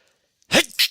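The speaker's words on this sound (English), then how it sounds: "I had to sneeze there" A single sharp sneeze bursts out after a moment of silence, close and loud, followed by a short breathy exhale.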